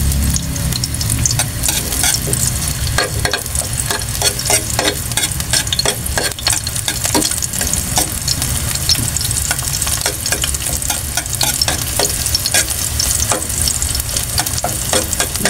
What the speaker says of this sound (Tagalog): Gisin natin sa bawang.